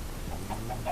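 Short soft clucks from a chicken in Minecraft, a few faint blips over a low steady background hum.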